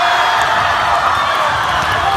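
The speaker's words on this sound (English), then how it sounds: "The crowd went wild." A dense, roaring crowd cheers steadily and loudly after a young player lays in the go-ahead basket in a tied basketball game.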